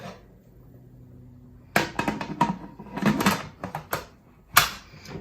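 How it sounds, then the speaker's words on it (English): A lid is set onto a cooking pot of curry oxtail: after a quiet start come several sharp, close clanks and rattles in quick bursts, ending with one louder knock. "Then I'm gonna put the lid on that"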